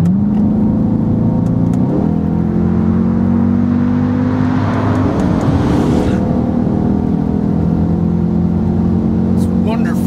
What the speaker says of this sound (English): The sound of the engine is magnificent.